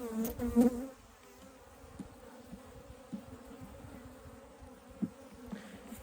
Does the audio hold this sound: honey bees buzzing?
yes